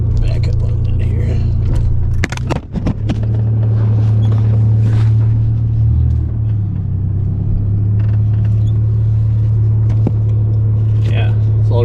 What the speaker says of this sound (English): Yeah, it's already idling a lot better.